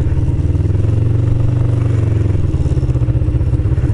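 A motorcycle engine revs and rumbles in an empty gravel parking lot during wheelie attempts, a loud, close, low drone with a slight rise and fall and some clatter, no talk.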